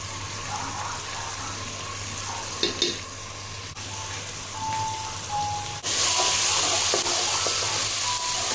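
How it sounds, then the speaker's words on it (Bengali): Ginger paste and cumin paste fry in a pan with a steady, rain-like sizzle, broken by occasional stirring scrapes and clinks and growing louder toward the end. "কিছুক্ষণ নেড়ে মশলাটা কষা।"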